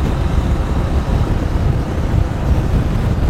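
A motorcycle speeds along a highway with the rider's helmet visor open, a loud, dense roar of wind buffeting the microphone that holds steady throughout.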